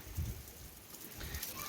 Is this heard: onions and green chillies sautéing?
no